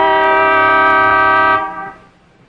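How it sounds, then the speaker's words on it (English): A single long, loud car horn blast holds steady for about a second and a half, then cuts off and fades into quiet. "One long honk of the horn."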